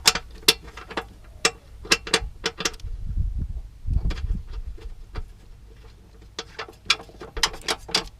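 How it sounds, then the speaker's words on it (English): Ratchet with a 12 mm socket tightening bolts on a Ford Ranger steering setup, giving quick bursts of close, crisp clicking with some low clunks of tool contact in between. "We have the 12 mil socket on first. Let's do these up."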